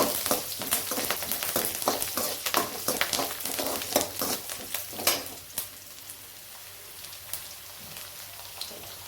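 Steady crackling sizzle of onions frying with curry leaves and salt in a hot pan, with scattered pops and stirring scrapes, close and continuous with no talking.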